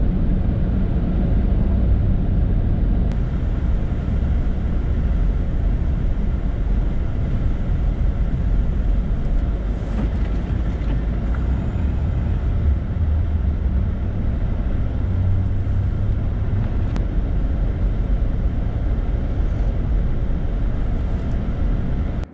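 Steady low rumble of a car driving through a winter storm, continuous engine and road noise with wind and wet or snowy road hiss, constant and close throughout, with no talking.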